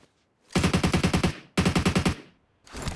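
An AUG assault rifle fires in PUBG Mobile, loud and close in two rapid automatic bursts of about eight shots each, followed by the start of a third burst after a short pause.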